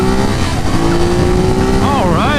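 A 2019 Ducati Monster 821 motorcycle accelerates hard, its engine revving loudly and climbing in pitch through the gears, with wind rush and a voice talking over it.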